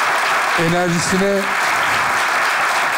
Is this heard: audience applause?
yes